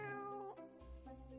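Cartoon cats meow in The Cat Machine puzzle game, a few distinct drawn-out meows in quick succession, clear and close with no talk over them.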